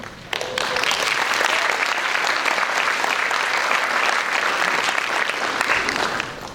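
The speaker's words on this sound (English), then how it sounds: "Let's have a round of applause for Period 2," At a high school National Honor Society induction ceremony, the audience applauds the student band in a sustained, full round of clapping that starts abruptly, stays loud and even, then tapers at the very end.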